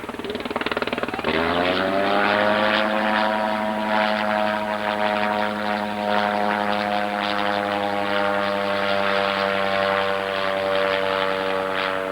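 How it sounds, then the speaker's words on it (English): A Fokker D8 model plane flies with a 160 Gnome rotary engine, a 1993 RC aero jamboree flight. The engine starts as a rough, rising buzz and then holds a loud, steady, harmonically rich drone throughout. "Listen to that 160 gnome rotary."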